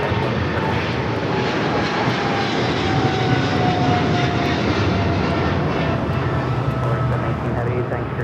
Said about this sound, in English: That is DHL, operated by Polar Air Cargo 718, taking off 777 freighter to Cincinnati.